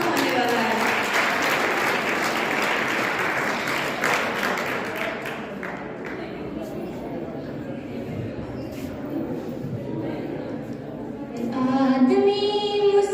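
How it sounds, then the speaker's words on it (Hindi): Dense crowd applause at a school farewell party, a steady wash of many hands that thins out, then loud amplified voices rise near the end. "एक बार जोरदार तालियां बजा दे"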